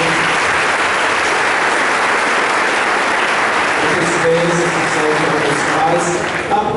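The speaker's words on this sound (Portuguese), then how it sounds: "Então, salve de palmas para a gente." A church congregation applauds during a Sunday morning mass, steady dense clapping from many hands filling the space, with faint voices audible toward the end.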